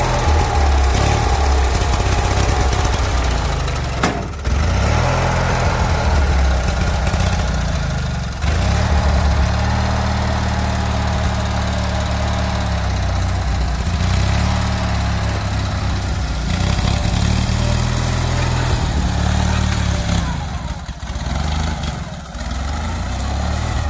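A Craftsman GT6000 lawn tractor engine runs loud and close, its steady, rough drone surging and wavering slightly throughout, with no voices over it.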